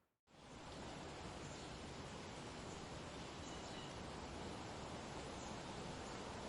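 Water of the Two-Hearted River in remote Luce County wilderness rushes in a constant, dense broadband roar that starts abruptly after a moment of silence and holds steady and faint-to-moderate throughout, with no voices.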